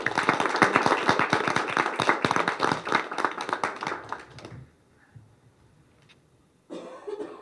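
A small audience at a school spelling bee claps for a contestant, giving several seconds of loose, uneven hand claps that fade out. After a quiet pause a short burst of sound follows.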